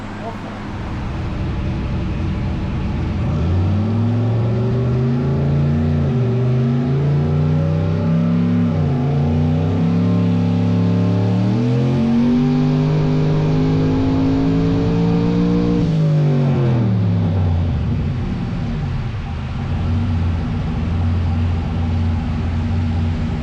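A car engine revs hard through a dyno pull, its tone rising in a long sweep before dropping back, with a brief dip partway through; the sound is loud, close and sustained.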